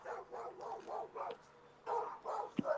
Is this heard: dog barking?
yes